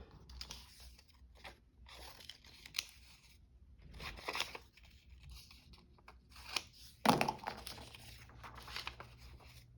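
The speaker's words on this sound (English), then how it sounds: "Yeah, let me cut it." Scissors snipping through paper for a junk journal fold project, a series of short crisp cuts spaced irregularly and close to the mic, with rustling of the sheet between them and one louder snip partway through.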